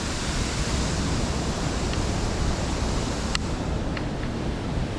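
A waterfall on a stream near the River Swale rushes nearby. The roar of falling water is steady, dense and continuous, with a couple of faint clicks and no voices.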